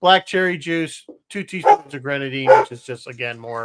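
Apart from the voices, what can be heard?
dogs barking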